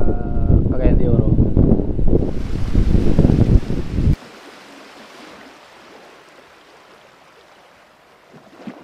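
Strong wind blows through a rural spot in Balingoan, Misamis Oriental, buffeting the microphone with heavy rumbling gusts for about four seconds before it drops to a faint, steady breeze.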